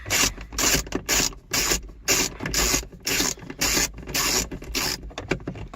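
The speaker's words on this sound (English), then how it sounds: "I'm just going to remove those 4 8mm bolts." A hand ratchet with an 8mm socket loosens bolts on an Acura, producing steady repeated bursts of close, rasping clicks in an even back-and-forth rhythm.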